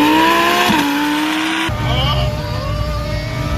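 Supercar driven hard on a wet road, engine revving up and then shifting, with a tyre squeal as it slides, loud and close.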